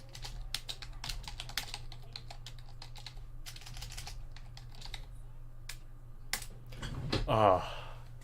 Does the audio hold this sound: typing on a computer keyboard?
yes